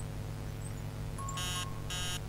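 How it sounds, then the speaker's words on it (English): Two bursts of a digital alarm clock beeping in the horror video game Mama, loud and harmonic over a low steady game hum, preceded by a few faint chirps. "The alarm clock is so annoying."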